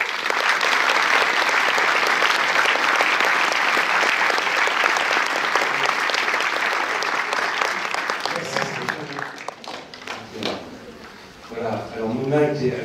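Sustained applause from a cinema audience at a Paris film premiere at UGC Les Halles, dense and enthusiastic clapping that gradually thins out and fades near the end as a voice begins speaking.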